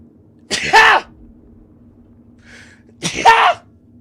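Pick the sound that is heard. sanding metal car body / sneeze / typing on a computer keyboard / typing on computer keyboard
sneeze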